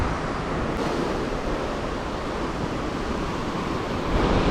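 Ocean waves wash onto Wiman Beach in Chanthaburi, Thailand, a steady, broad roar of surf with wind noise buffeting the microphone throughout.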